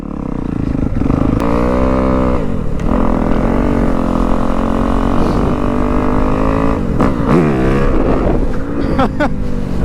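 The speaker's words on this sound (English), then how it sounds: "Doing wheelies in the snow" A dirt bike engine revs up and down in rising and falling sweeps while wheelies are done in a snowstorm, loud and close and continuous throughout, with wind buffeting the microphone.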